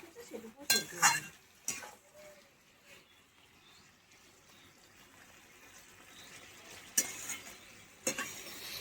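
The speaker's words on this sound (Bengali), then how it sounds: "এইটুকু দিয়ে এরকম নাড়াচাড়া করতে থাকবো, তাহলে ভেন্ডিটা মাখা মাখা হয়ে যাবে" Cooked okra being stirred in a pan: soft, low scraping and shuffling with a faint simmer, broken by a few sharp clinks of a utensil against the metal near the start and end.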